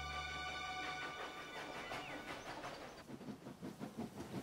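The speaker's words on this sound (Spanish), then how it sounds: "Esta es una locomotora de vapor, igual que Thomas." A steam locomotive runs along railway tracks, with a steady hiss and whistle-like tones at first giving way to rhythmic clattering of wheels over rail joints, moderately loud and without talk.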